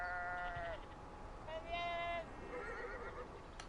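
Sheep bleat in the video game Beyond: Two Souls, three drawn-out wavering cries in a row, fairly close and clear over a steady low background murmur.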